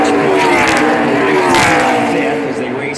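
NASCAR stock cars roar past at the Daytona 500 racing off turn two, a loud, dense engine drone with a Doppler swell as the pack passes, under a commentator's voice.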